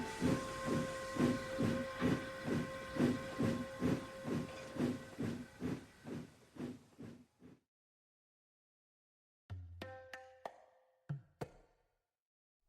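A steam engine chuffs in a steady rhythm of hissing puffs that slow and fade, then after a silence gives a few short toots and hisses, close and alone.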